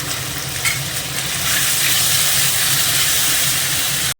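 Ginger-chili paste and a spoon of salt sizzling in hot oil with bay leaves and dried chilies for khichuri, a loud continuous frying hiss that swells midway, no talking.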